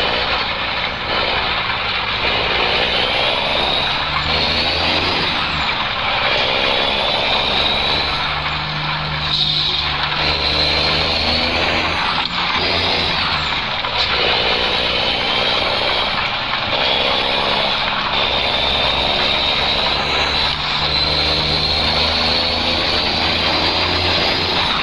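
A Mercedes truck drives along a road, its engine and tyre roar steady and loud throughout, with wind noise and a few faint high squeals over the drone and no talking.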